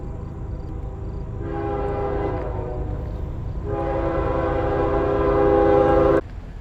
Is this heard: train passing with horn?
yes